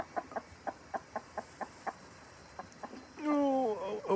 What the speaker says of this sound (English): this one over here is checking out those freeze-dried mealworms, pecking at the container.